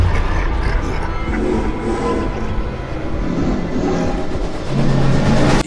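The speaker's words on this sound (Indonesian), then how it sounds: "itu adalah maskot kita, kereta api hantu Thomas Laba-Laba atau Thomas Exxon." A toy Thomas the Tank Engine train rattles steadily along its track, a continuous mechanical whirring and clattering with no pauses, fairly loud and close.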